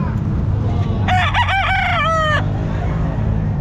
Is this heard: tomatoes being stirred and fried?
no